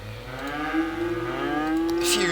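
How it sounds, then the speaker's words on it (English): Cows moo in the Cities: Skylines city-building game, one long, drawn-out low bellow that rises and bends in pitch, loud and clear with no talk over it. "A few cows."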